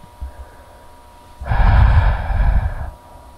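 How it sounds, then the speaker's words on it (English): Heavy, rasping breaths come in one long burst of about a second and a half, close and fairly loud against a quiet background, then stop. "Why are you breathing like that?"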